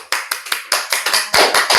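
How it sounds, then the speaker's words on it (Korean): A high-school class applauding together at the end of a final math lesson: a quick, steady run of about a dozen sharp, fairly loud claps that swell near the end, with no talking. "고생하셨습니다. 박수!"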